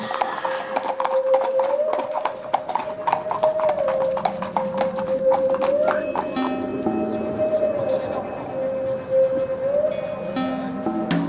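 Horseball horses' hooves clip-clop steadily on hard ground in a quick, even rhythm, close and clear, while a sustained high whine or whistle runs underneath and no one speaks.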